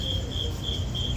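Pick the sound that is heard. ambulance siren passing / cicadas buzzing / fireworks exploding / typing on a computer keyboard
cicadas buzzing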